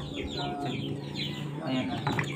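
Chicken clucking a few times at a farmyard cooking spot beside Agusan Marsh, moderately close, with outdoor background noise and bits of nearby talk underneath.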